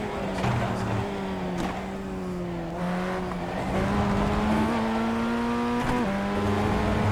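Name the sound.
Formula 1600 race car engine in iRacing video game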